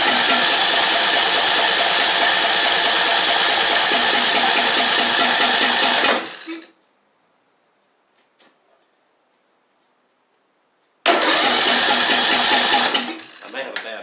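A Craftsman YT4000 lawn tractor engine, suspected of a bad fuel pump, cranks loudly and rapidly for about six seconds without catching, then goes quiet, then cranks again for a few more seconds.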